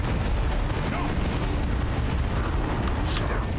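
Orbital barrage explosions in Dawn of War 2 pound a Plague Champion: a dense, continuous roar of overlapping booms and rumbling blasts, loud and sustained throughout.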